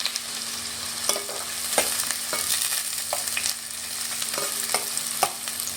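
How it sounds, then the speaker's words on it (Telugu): Chopped onion fries in hot oil in a pan, a dense, continuous sizzle with regular metallic scrapes and taps from stirring, close and even in loudness, with nobody speaking. "బ్రౌన్ కలర్లో రావాలి వచ్చేంత వరకు వేయించుకోవాలి"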